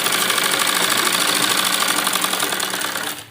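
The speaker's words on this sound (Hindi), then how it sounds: "यहाँ पर हम सिलाई लगाएंगे।" A sewing machine stitching a circular umbrella palazzo, running as a steady, loud mechanical whir with a rapid even rhythm that cuts off at the end.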